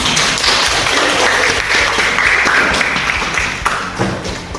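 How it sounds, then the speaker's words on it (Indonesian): A classroom of students bursts into loud, continuous clapping for classmates, a dense patter of hands with occasional thumps that holds steady and then eases slightly near the end. "Please give applause"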